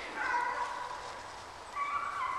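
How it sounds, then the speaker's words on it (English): A pack of dogs outdoors at a colonial-era metal detecting site gives long, wavering whines and whimpers in two stretches, moderately close and steady. No speech is heard. "Looks like I got a pack of dogs moving in on me over here."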